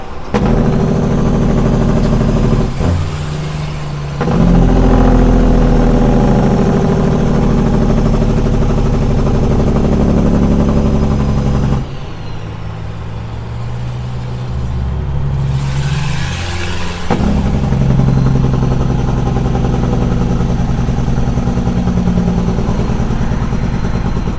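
Highway traffic heard from inside a truck, a loud continuous engine rumble and road drone with shifts in pitch as other vehicles move nearby, no talking.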